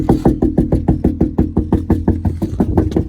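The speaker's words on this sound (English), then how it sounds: "We'll run up there and pound on his door till he answers." Fists pound on a door in a fast, steady rhythm, roughly a dozen heavy, close thuds in three seconds, with no voices.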